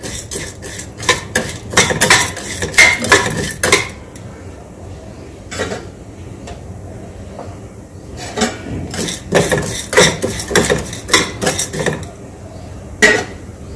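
Metal spatula scraping and clinking against a kadhai as dal is stirred and roasted until brown, irregular bursts of close scraping separated by quieter pauses.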